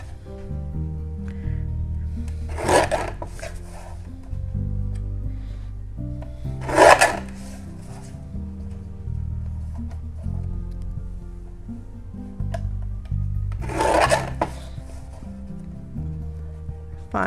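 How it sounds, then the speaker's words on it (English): A paper trimmer slices through card stock in three brief, sharp swishes spaced several seconds apart, set against a quiet room with soft background music. "then we're going to trim this one down"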